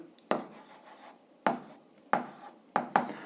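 Pen strokes on paper while writing out an algebra answer by hand: five short, separate scratches with gaps between them, fairly close and quiet, and no speech.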